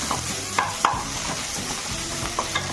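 Onion and ginger-garlic paste frying in a pan for a fish dalma, a steady close sizzle broken by a few light scraping stirs and taps of a utensil.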